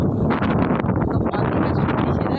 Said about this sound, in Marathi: आज जोरात वारा आहे